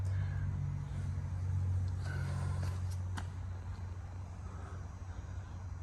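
A 1960 Ford F-100 pickup's 351 V8 engine running, a steady deep low rumble held throughout at moderate level with a few faint clicks and knocks above it.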